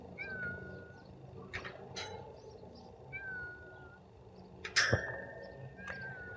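An outdoor cat meowing repeatedly, short faint mews spaced apart over quiet background, with one louder sharp clank partway through.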